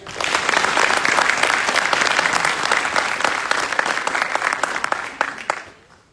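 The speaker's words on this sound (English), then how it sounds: "Please join me in a round of applause for the Commandant's list." A large audience at a drill sergeant graduation ceremony at Fort Jackson, South Carolina, applauds loudly and continuously, a broad wash of clapping that holds for several seconds before tapering off at the end.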